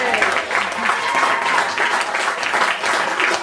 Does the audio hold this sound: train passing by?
no